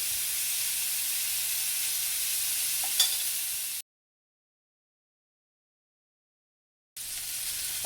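Chicken boti kabob pieces sizzling in a pan, a steady hiss with a faint clink, cutting to silence for about three seconds before the hiss returns.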